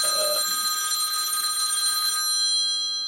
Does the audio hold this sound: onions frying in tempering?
no